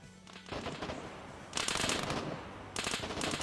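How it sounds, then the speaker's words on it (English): Rapid bursts of automatic gunfire in the military shooter Arma 3, loud crackling volleys that cut in and out in several dense strings over a background of distant shots. "And now here come the gunshots."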